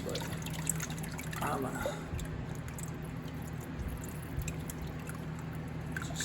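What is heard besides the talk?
oil leaking from Grizzly G0824 lathe during oil change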